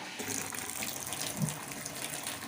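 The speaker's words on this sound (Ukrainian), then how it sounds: "Давайте відкриємо гарячу воду." A hot water tap fed by a gas water heater runs at full pressure, giving a steady, close rushing gush of water with no pauses.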